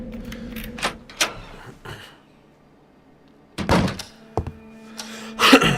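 A key turning and a door handle working in the horror adventure game Scratches, heard as a series of sharp, loud mechanical thunks and clacks with a gap of near silence between bursts.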